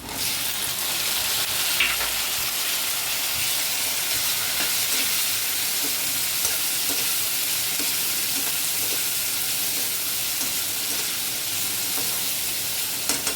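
Tomatoes frying with golden onions in a pan for cauliflower bhaji, a loud, continuous close hiss and sizzle that stays steady the whole time.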